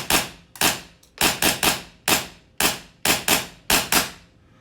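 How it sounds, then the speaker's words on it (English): A SIG Sauer P320 M18 gas blowback airsoft pistol with a lightweight composite body fires about a dozen sharp shots in irregular quick pairs and singles. Each pop carries a snappy slide clack, loud and close, with no talk. "you can really feel the slide hit when you shoot"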